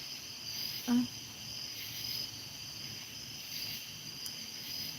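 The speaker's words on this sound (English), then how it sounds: "It's cricket." Crickets chirp in the pitch-dark night on a farm homestead, a faint, steady high trill continuing throughout with a brief low thump near the start.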